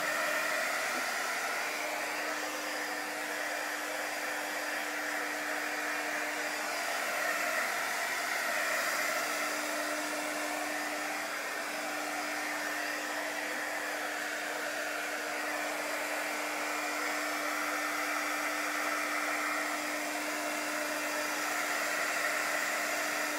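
A hair dryer blows steadily to dry chalk paste on a wooden general store tray, a continuous close whooshing roar with a constant motor whine that holds unchanged throughout, with no talking.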